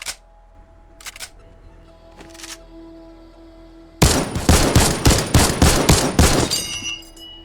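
Fortnite heavy assault rifle (AK) and infantry rifle fire. A few faint clicks in near quiet give way to a sudden loud burst of about ten rapid, evenly spaced shots.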